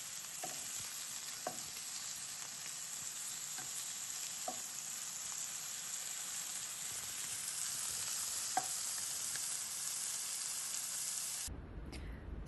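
Pieces of northern pike fry in a pan with a constant, dense hiss of sizzling oil. Faint taps and pops are scattered through it, heard up close and alone until the sound cuts off abruptly near the end.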